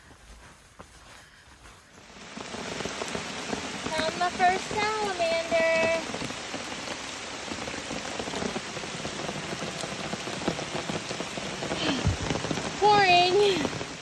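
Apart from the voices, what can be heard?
pouring rain on a forest trail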